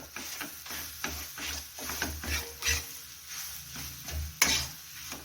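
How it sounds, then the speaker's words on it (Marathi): A spoon stirs roasted peas through a wheat-flour kachori filling in a pan, giving soft, repeated scraping strokes with a faint sizzle underneath and one sharper clink near the end. "भाजून घेतलेला मटार मिक्स करून घेऊया आणि छान असं फिरवून घेऊ"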